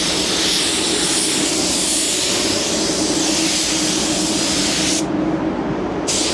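A paint spray gun lays silver paint onto a large Ford hood with a loud, continuous close-up hiss that barely changes, cutting briefly near the end.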